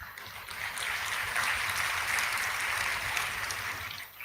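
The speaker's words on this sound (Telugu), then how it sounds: "చప్పట్లు కొట్టారు" Church congregation applauding during a sermon, a steady broadband clatter of many hands clapping that holds evenly for about four seconds before tapering slightly at the end, with no talking over it.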